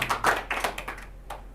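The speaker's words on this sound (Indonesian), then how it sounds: "Tepuk tangan dong." A small group claps at a candidate talk-show event, a short burst of close, sharp hand claps that quickly thins out into a few scattered claps before fading.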